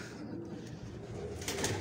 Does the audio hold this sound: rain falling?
no